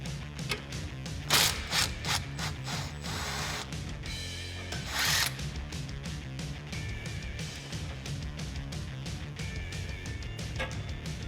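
A wrench and an Allen key work loose the sway bar end link nut on a Jeep Wrangler JK. Close metallic clicks, ratcheting and scraping come in irregular bursts with sharp taps between.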